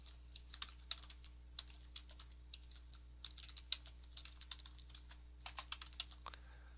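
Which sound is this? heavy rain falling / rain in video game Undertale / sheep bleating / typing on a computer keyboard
typing on a computer keyboard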